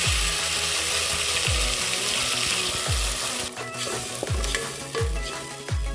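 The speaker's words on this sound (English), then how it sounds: "Let's now add in our tomatoes." Tomatoes tipped into a pan of frying meatballs bring up a loud, steady sizzle, with a utensil scraping and stirring through it in repeated strokes, close and alone.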